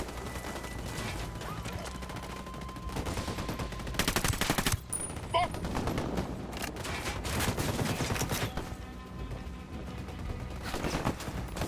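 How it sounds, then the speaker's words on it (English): Gunfire in the shooter game Ghost Recon Wildlands, with rapid automatic bursts and single shots that come thick and loud for several seconds and are broken by short pauses. Some impacts and mechanical clatter mix in, and no one speaks. "Opening fire."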